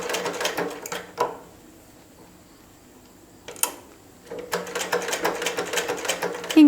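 A basic home sewing machine runs double stitching in bursts, with a rapid mechanical clatter that starts, stops for a quiet stretch, then resumes loudly; the stitching is heard alone without talk.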